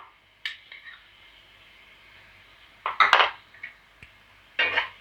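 Spoon stirring and scraping crab masala gravy, with tomatoes and ground spices, in a metal cooking pan, giving a few separate clinking scrapes then a louder burst of clatter near the end.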